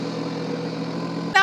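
A Home Depot 25hp tractor engine idling with a steady low rumble, ending in a brief sharp higher-pitched sound.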